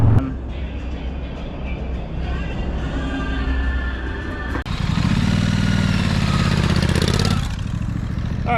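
A motorcycle nearby idles and then revs up as it pulls away, its engine growing louder in the second half before dropping off, with wind noise throughout.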